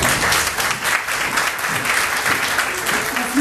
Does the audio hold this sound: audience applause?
yes